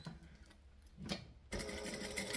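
Sewing machine stitching a garment pattern, a quiet run of needle noise that stops, then a louder, steady mechanical whirr resumes for the final second.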